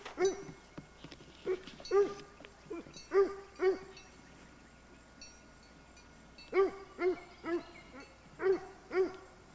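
Dogs on a goat farm barking in short, repeated woofs, one or two at a time in loose clusters with gaps between, fairly close and clear over a quiet outdoor background.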